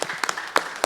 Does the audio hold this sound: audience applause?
yes